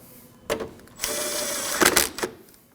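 A ratchet or power tool snugs a 10mm bolt on the AC condenser of a 2013-2015 Subaru XV Crosstrek. A brief click is followed by a sustained whirring run of about a second, then two short bursts, all close and loud.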